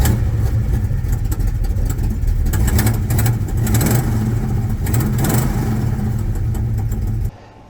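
A 1968 Mercury Cougar with a 351 Cleveland V8, fresh from a starter replacement, fires up and runs with a steady, loud, rumbling idle close by before cutting off abruptly near the end.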